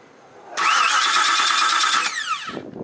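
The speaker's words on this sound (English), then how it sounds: "So when you do like this, it will turn the engine." Cadillac DTS with a no-crank, no-start fault, its starter jumped by hand: the engine cranks with a loud steady whirring grind for about two seconds, then winds down and stops, followed by faint handling noise.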